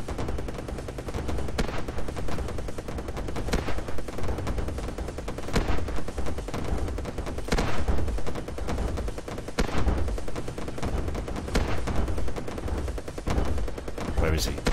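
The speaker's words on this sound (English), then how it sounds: "turn on the machine guns" Aircraft machine guns in a flying combat video game fire in long, dense, loud bursts, with rapid rattling shots running continuously and sharper cracks and explosions punctuating them.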